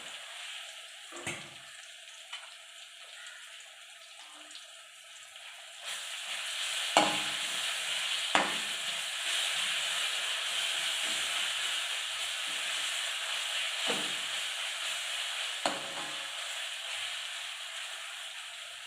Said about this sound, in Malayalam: പാത്രം നമുക്കൊന്നുകൂടെ വഴറ്റി കൊടുക്കാം